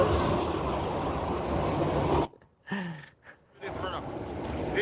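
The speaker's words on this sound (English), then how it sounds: "Oh, this guy's on a boat." Boat under way on the sea off Montego Bay, with broadband wind and water rush loud for the first two seconds, a brief lull with a voice talking, then the rushing noise returning.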